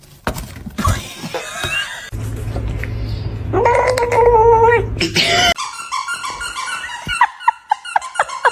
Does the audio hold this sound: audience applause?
no